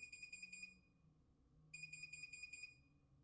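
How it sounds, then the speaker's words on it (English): A building fire alarm under test sounds in two bursts of rapid, shrill electronic beeping separated by a short gap, faint and distant in the room with no talking over it. "oh, that was probably a fire alarm test."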